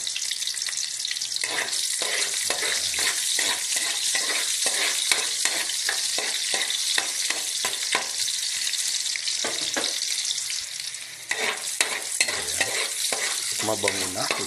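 Onions sauté in hot oil with salt, a loud, bright sizzle broken by rapid, repeated scraping strokes of a spatula stirring the pan, with a brief pause near the end.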